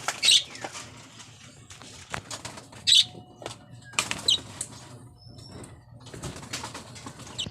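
Several bursts of wing flapping as racing pigeons arrive, with sharp clattering flutters separated by quieter gaps and faint background noise.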